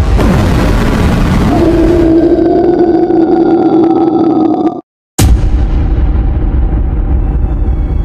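Loud, sustained blasts of movie gunfire aimed at a giant octopod fill the opening seconds, followed by a steady ringing drone, a brief dead gap, then rumbling noise resuming.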